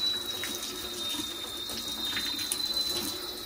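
Tap water runs steadily into a sink while motor parts from a Singer 431 G Convertible sewing machine are washed, a continuous close splashing flow with no talk.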